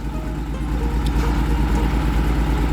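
A ten-wheeler crane truck's diesel engine runs at a steady idle while the crane lifts an old engine into the back of a pickup, giving a continuous low rumble up close with no talking.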